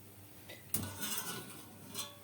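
Fried onions are strained and tipped onto a plate with a sharp metallic clink of utensil on pan, then soft scraping and a faint rustle, close and moderately quiet.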